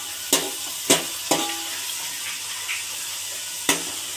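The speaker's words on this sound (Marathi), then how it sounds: "मोठ्या गॅसवर चांगलं मिक्स करून घेऊया. कांदा करपवायचा नाही." Onions fry in a pan over a high flame for pav bhaji, giving a low background sizzle, while several sharp clanks of a spoon against the pan mark the stirring. No one speaks.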